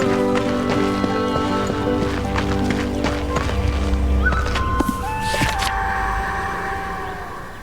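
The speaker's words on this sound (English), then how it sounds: "This is no place for a horse." A horse gallops in the video game Darksiders 2, with rhythmic hoofbeats over a layered game soundscape of music and effects, followed by a few sharp rising and falling tones before things settle.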